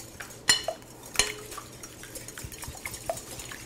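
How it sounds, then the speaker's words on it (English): Eggs being whisked in a bowl for a quiche, metal clinking and scraping against the bowl in a few sharp taps followed by softer, irregular stirring. "We're going to whisk."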